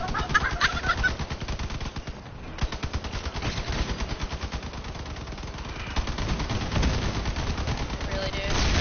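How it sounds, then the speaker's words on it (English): Shotgun fire in the vehicle combat video game Crossout, dense rapid bursts of gunfire mixed with engine and battle noise running continuously and loudly throughout. "Those guys with them shotguns are pretty serious."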